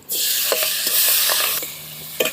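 Tomato, chillies and curry leaves sautéing in a hot pan, a loud continuous sizzle broken by several scraping stirs of a spoon, heard close and without talk.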